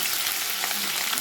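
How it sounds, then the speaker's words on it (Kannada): Red chillies frying in a little hot oil for a North Karnataka roti tempering, a dense, steady crackling sizzle heard up close and alone. "ಮೆಣಸಿನಕಾಯಿ ಸ್ವಲ್ಪ ಎಣ್ಣೆಯಲ್ಲಿ ಖಾರ ಬಿಡಬೇಕು."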